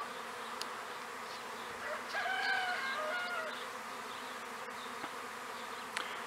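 A swarm of honeybees hums in a steady, dense buzz outdoors, while a rooster crows faintly in the background partway through and a few light clicks sound.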